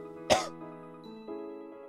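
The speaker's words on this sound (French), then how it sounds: "cette toux omniprésente est dégueulasse" A single short, harsh cough bursts out over a steady background of video-game music, close and fairly loud, then fades into the tune.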